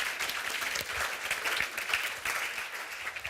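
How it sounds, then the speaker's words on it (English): An audience at an election event applauds a speaker, with dense, even clapping filling the whole stretch. "A big round of applause, please."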